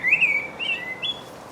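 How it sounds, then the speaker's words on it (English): Small birds singing in a green spring garden, a few bright chirping phrases close by, clear and alone with no talk. "Even the birds are enjoying it, singing away up there."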